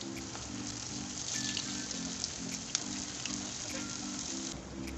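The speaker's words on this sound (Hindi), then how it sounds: "ये एक साइड से ये फ्राई हो चुके हैं, अब इन्हें पलट लूँगी।" Potato kebabs frying in oil in a pan, a steady soft sizzle with faint crackles and occasional pops, continuous and close, with a low hum beneath.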